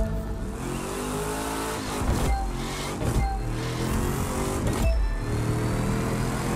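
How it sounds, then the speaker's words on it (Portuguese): Dodge Viper drag car in The Crew 2 doing a tire burnout in the pit, a steady loud engine roar with squealing, smoky tire spin and a few sharp revving bursts, no talking. "Queimada de pneu perfeita."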